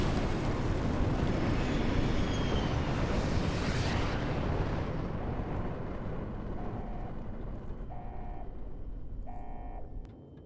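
A missile strike explosion in a Fallout video game: a loud, sustained roaring blast that slowly fades, with a few faint electronic beeps toward the end.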